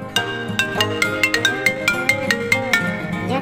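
A phone rings with an incoming call: a bright, repeating electronic melody of quick plucked notes in a steady rhythm, loud and close with no voices.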